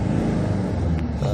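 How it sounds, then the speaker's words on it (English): A Galloper 4WD diesel, a long-body seven-seater with a manual gearbox from around 2000, revs hard under acceleration, giving a loud, steady engine rumble with a rising drone close by. "let's try to accelerate and see the RPMs, how they're going up."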